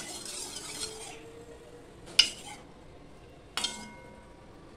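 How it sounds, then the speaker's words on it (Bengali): Kitchen clatter while rinsing a kadai (wok) and tipping its contents into a mixer jar: faint background rinsing, then two sharp metallic clinks with brief ringing, isolated and fairly close. "এবার এই কড়াইটা ধুয়ে দিয়ে এই মিক্সি জারের মধ্যে আমি দিয়ে দেবো।"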